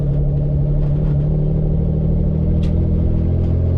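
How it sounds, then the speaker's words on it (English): A loud, rumbling turbocharged BMW E36 sedan engine idles and hums steadily close by, deep and continuous with no voices. "My car is just a little loud"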